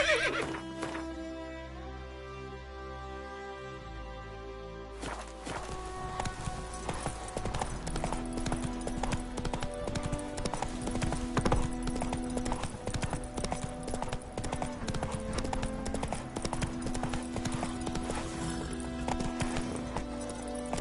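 Horse hooves clip-clop at a gallop with a whinny in The Witcher 3, a steady drumming of hoofbeats over music, with a rider urging the horse on.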